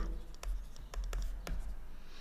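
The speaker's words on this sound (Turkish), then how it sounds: "Hemen şuraya yazıyorum." A pen scratches on paper in short strokes while a formula is written by hand for a sixth-grade science problem, faint and close, with a few quick scribbles.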